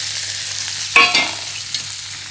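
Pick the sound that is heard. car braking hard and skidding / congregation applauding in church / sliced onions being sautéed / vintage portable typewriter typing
sliced onions being sautéed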